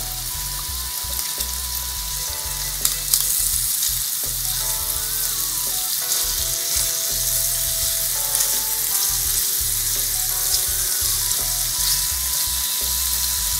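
Shrimp frying in a pan, a dense, steady sizzle with occasional clicks and clatter of handling, close and fairly loud throughout, no voices.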